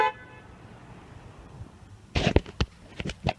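Horn of a 2008 Toyota RAV4 sounded from outside the vehicle: a few short, sharp honks in quick succession after a quiet stretch of faint background.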